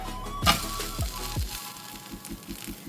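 Ghavan, an instant dosa, sizzles on a hot pan with a soft, steady hiss, punctuated by a few low knocks and scrapes early on.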